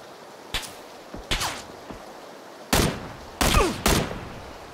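Sharp gunshots in PlayerUnknown's Battlegrounds ring out in scattered single reports and quick pairs, loud and close, with quiet gaps between them.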